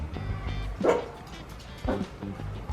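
A dog gives a few short, soft barks and yips at close range, spaced about a second apart, with some quiet background noise.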